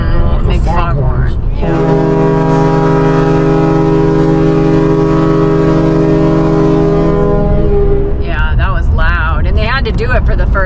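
A deep, loud ship foghorn blast on a BC Ferries vessel holds steady for about six seconds, with people talking before and after it.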